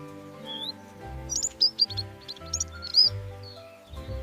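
A finch gives a few short, high chirps in quick bursts over steady background music.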